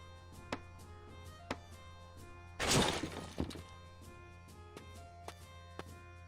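Trees chopped for wood in Castle Flipper give sharp, isolated thunks spaced about a second apart, with one louder crashing, splintering burst in the middle, all fairly quiet and close.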